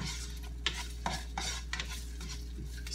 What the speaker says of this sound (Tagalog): Stir fry lang siya ng konti para pangpalasa ba?